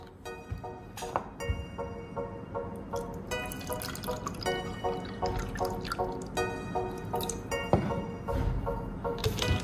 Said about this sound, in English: I grab a small plastic cup and pour a little bit of water into it.